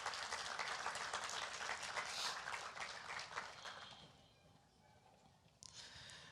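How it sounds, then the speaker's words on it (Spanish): A church congregation applauds a welcome, dense clapping from many hands filling the room, then fading to scattered claps and quiet after about four seconds. "Un aplauso de bienvenida para nuestra hermana."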